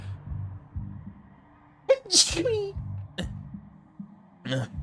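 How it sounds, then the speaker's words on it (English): One sharp sneeze bursts out close by, preceded by a quick intake of breath, over a quiet background of low, murmuring sound. "Pardon me, I'm gonna sneeze."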